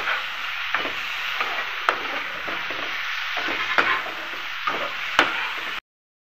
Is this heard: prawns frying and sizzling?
yes